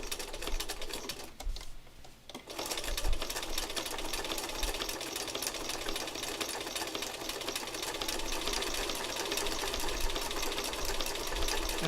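A sewing machine runs steadily while stitching back over the muzzle piece of a stuffed animal's head, a continuous close mechanical whir with one brief pause near the start.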